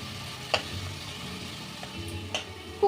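Onions and two whole peeled garlic cloves frying together for a Bihari-style chicken curry, a low steady sizzle broken by a few sharp stirring clinks and scrapes from the pan.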